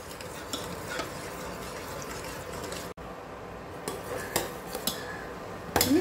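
A spoon scrapes and swirls around a pot of milk brought to the boil for homemade curd, with occasional clinks against the metal and a brief sharper knock near the end.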